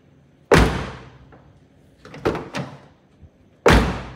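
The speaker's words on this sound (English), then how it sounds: "Look at the sound of this door." An old, high-mileage Toyota car door slams shut three times, each a loud, close thud, with some quieter knocks and handling sounds between the slams.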